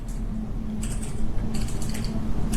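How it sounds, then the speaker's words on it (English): Typing on a phone's touchscreen keyboard produces quick bursts of small, crisp clicks, in two short clusters over a low steady background hum. "I'm typing randomly right now, and it's forcing me to type in apple."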